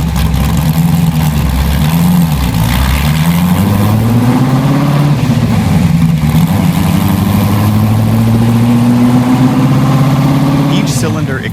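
A 1965 Ford GT40 replica's 4.7-liter V8 runs loud and close for the whole stretch, its low growl swelling and easing through several revs, with a brief sharp noise near the end.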